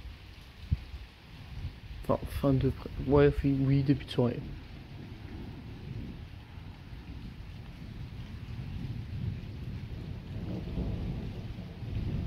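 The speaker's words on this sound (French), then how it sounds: "Petit orage nocturne en fin de soirée." Low thunder rumbles through a night storm with steady rain, continuing for about twelve seconds while someone speaks briefly early on.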